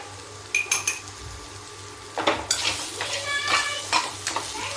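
Spices including turmeric, coriander and Kashmiri chili hit hot oil in a pan for kadhi, a low sizzle with metal clinks and stirring scrapes of a spoon against the pot, close up and without talk.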